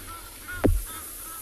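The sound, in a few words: Egyptian geese honking while flying over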